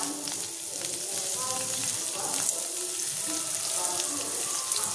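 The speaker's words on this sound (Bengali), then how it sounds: "এবার দেবো পেঁয়াজ কুচিটা।" Chopped onion frying in a pan, a steady hissing sizzle with scattered crackles, moderately close and continuous throughout.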